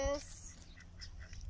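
Ducks quack by a lake in Outapi, Namibia, where ostriches also roam; a few short, fairly faint quacks come through over low background rumble in a quiet outdoor setting.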